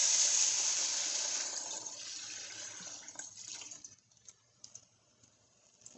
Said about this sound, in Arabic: كوب عليه دابا الماء سخون